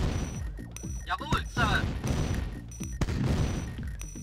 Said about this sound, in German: Der normale Schuss von Mammut